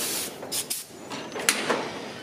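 Compressed air hisses in short bursts as it clears the registration holes of a sand casting mold, several broad blasts within two seconds over a steady background hiss, close and moderately loud with no talk.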